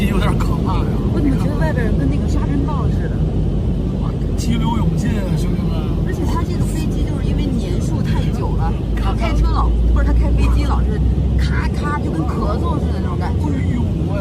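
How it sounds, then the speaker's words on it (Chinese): A loud, constant engine roar fills the cabin of an old passenger plane during takeoff on a flight into Somalia, with people talking over it. "随着飞机的轰鸣声，我们起飞了。"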